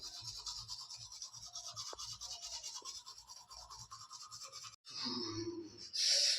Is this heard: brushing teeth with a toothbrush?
yes